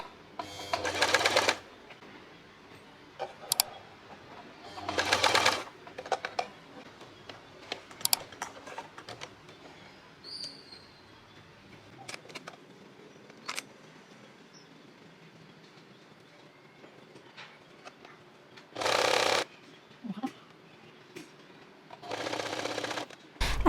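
A sewing machine sews the side seams of a top in several short, separate bursts, each lasting about a second. Quiet fabric handling and small clicks fill the pauses between the runs.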